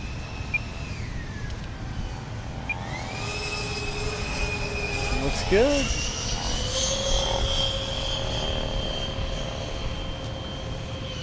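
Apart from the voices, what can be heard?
scratch-built RC 747 airliner with four 90mm EDFs flying by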